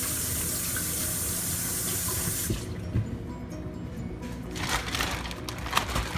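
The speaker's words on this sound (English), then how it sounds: "Let me get rid of this water because we're done with that." Water from a cooking pot or bowl is dumped into a kitchen sink, a steady rushing splash that runs for a few seconds, then gives way to quieter handling noises and light clatter.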